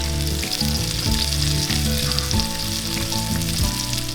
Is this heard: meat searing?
yes